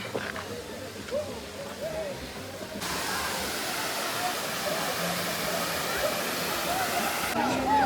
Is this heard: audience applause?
no